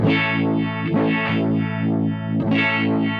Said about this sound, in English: I've got this little Pickle vibe, which is like a solid state uni vibe kind of sound